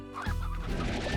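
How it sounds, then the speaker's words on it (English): Hens in the Slime Rancher video game give a short burst of clucking, close and fairly quiet. "let's grab these hens right here"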